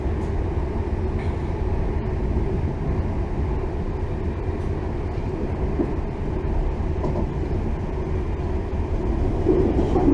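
A train runs steadily near Manchester Piccadilly with a continuous low rumble and faint rhythmic wheel clatter, heard alone without voices for the whole stretch.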